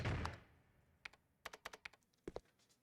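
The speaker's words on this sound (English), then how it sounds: "There's someone typing in here." Keys clack on a keyboard in the Resident Evil: Code Veronica game, a quiet, irregular run of separate taps after a soft opening thump, with no talking over it.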